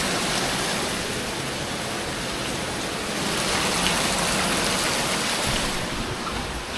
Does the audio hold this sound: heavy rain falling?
yes